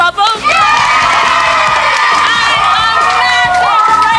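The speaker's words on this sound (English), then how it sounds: "a massive round of applause to Bubble" Studio audience of a live children's TV show cheering and shrieking for Bubble from Big Brother 2, loud and continuous, with youthful high-pitched shouts and whoops layered over a sustained roar.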